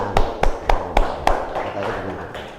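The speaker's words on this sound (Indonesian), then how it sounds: "Ayo kita berikan tepuk tangan" A handful of loud, evenly spaced claps ring out in a classroom lesson, roughly five sharp strikes, before dying into softer scattered sounds with voices in the background.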